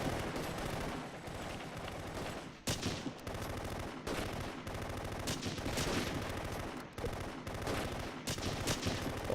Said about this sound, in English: There's a lot of fire going on.